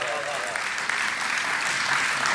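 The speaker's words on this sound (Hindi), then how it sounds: "तो साहब इस नई कविता पे एक बार तालियां बजा दीजिए।" Audience at a Hindi comic poetry gathering, a kavi sammelan, claps steadily in a dense, continuous wash, with a voice or cheer briefly rising above it early on.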